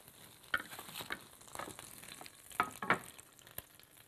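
Seasoned lamb ribs stirred in a hot pan with soy sauce and molasses, a soft steady sizzle broken by scraping clicks of the utensil, close and fairly quiet.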